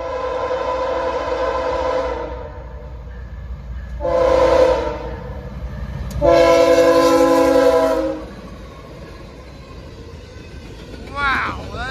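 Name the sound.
Norfolk Southern locomotive 8114 train horn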